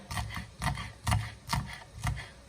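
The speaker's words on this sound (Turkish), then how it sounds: "Şimdi yemeğimin biberlerini de doğruyorum." Peppers chopped on a board with a knife while cooking a meat and fresh green bean dish, five steady rhythmic thuds with rasping cuts, close up and fairly quiet.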